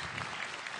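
Sustained audience applause for comedian Babe Cabita at a stand-up comedy show, a dense even wash of clapping filling the whole moment at steady loudness.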